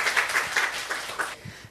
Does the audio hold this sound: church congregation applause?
yes